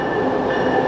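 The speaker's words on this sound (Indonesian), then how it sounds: "Ini dia keretanya." An Amtrak Acela high-speed train heading to Washington DC rumbles along the rails, a loud steady rolling roar with a high whine, heard close with no talking.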